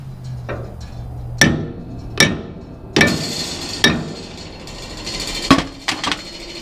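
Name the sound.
tapping with a hammer on a Bandit 18XP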